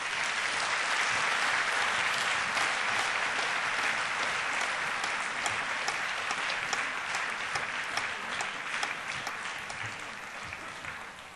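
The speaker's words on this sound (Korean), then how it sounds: "다 같이 한번 박수해 주시겠습니다" Congregation at a Korean church New Year's Eve service claps in sustained, full applause that holds steady and eases off slightly toward the end, with no talk over it.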